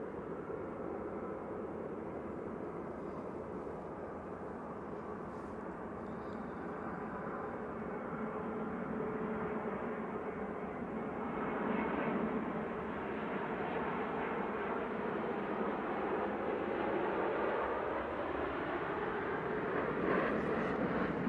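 An airplane at Manchester Airport gives off a loud, continuous roar that builds partway through and swells again near the end, heard alone with no talk.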